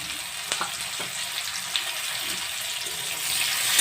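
Chopped onion and tomato frying in oil in a pan, a soft steady sizzle with a few faint stirring clicks, close and continuous, swelling slightly toward the end.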